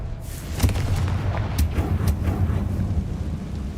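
A Confringo blasting spell goes off in Hogwarts Legacy as a loud, sustained booming explosion, with rumbling bursts rolling through the whole few seconds and no talking.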